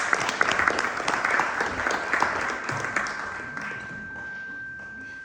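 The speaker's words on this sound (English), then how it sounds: "A huge round of applause for him." Audience applause at an Oxford event for Non-Resident Indians, a dense, steady wash of many hands clapping that gradually thins and softens toward the end.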